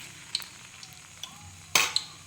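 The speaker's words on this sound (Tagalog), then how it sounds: "Ipiprito na natin yung lumpiang gulay ni Kaisang." Vegetable spring rolls (lumpiang gulay) frying in oil, a soft continuous sizzle close by, punctuated by a few sharp clicks and one louder crackling burst as something touches the pan.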